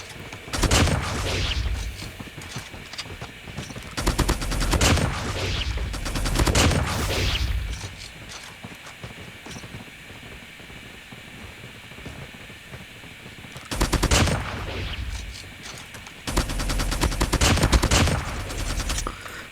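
The DR-H gun in a video game fires in long bursts of rapid automatic shots, loud and close, separated by quieter gaps of ambient game noise.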